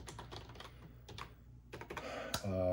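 Keys clatter on a Tandy TRS-80 Color Computer keyboard in quick irregular bursts with short pauses, fairly quiet and close, ending in a brief electronic tone.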